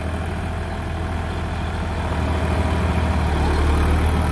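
A John Deere 5310 4WD tractor pulls a super seeder across a cleared field: a steady, loud diesel engine drone with a deep low rumble that holds constant and swells slightly toward the end, with no voices.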